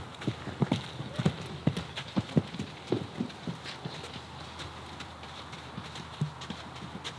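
Horses shuffle about in a paddock, changing places, with irregular hoof clops and thuds, close by, busy at first and then thinning to occasional steps over a low background hiss.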